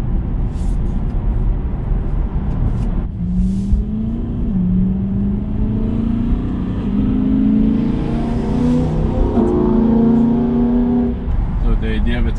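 A Tesla electric car setting off on a warm-up lap at the Nürburgring in bad weather, with a steady rising motor whine and road rumble heard from inside the cabin.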